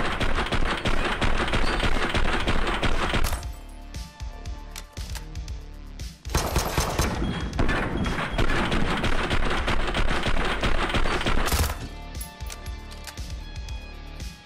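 Sustained automatic gunfire in the physics-based VR shooter Caedes, loud rapid bursts broken by two short lulls, continuing across the whole stretch with dense overlapping shots.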